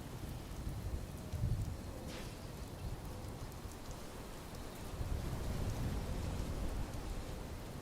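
Steady rain pours in the video game Fallout 76, a dense continuous hiss with a low rumble underneath, swelling slightly near the start and again toward the end, with no voices.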